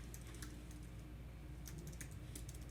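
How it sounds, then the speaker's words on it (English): Quiet, rapid keystrokes on a computer keyboard as a signature is typed, coming in uneven clusters of light clicks with short pauses between them, close by and alone. "or I type in my signature."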